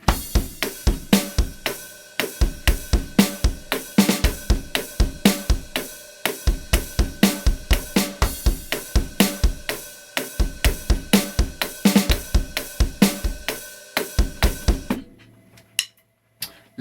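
A drum kit plays a driving rock beat with steady kick and snare hits and constant cymbals, loud and close, stopping near the end.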